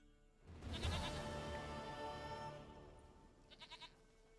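A goat bleats in The Witcher 3, with one loud wavering bleat near the start, a trailing murmur, and then a shorter, quieter stuttering bleat near the end, set against a faint background.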